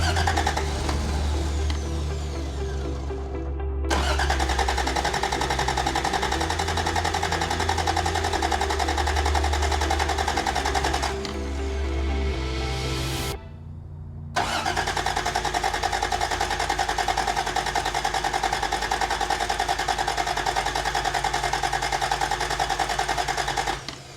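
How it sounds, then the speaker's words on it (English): Cheap old truck engine cranking and running, a loud continuous mechanical drone that cuts out briefly twice and restarts, rough and uneven throughout. "I think we're at the point where we're ready to fire it up and hear how it sounds."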